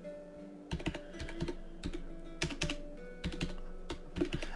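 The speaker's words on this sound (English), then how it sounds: "I always type the word layer at the end of it just so that I know." Rapid typing on a computer keyboard while cleaning up a blend shape layer in a 3D body rig, with clustered bursts of close, crisp keystrokes and brief pauses, no talking.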